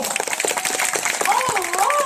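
An audience at the Singapore Night Safari's Creatures of the Night show claps briefly while voices and a few whistles rise over the scattered applause.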